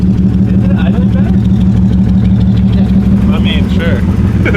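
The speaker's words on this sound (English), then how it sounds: "Is it idling better?" A worn BMW E36 idles close by, a steady, throbbing low engine hum with a regular pulse running throughout while people talk over it.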